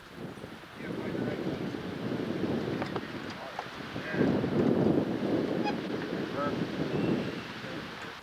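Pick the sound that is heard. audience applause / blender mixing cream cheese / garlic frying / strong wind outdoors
strong wind outdoors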